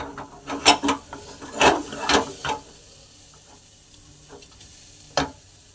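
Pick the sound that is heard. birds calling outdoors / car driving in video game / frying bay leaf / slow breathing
frying bay leaf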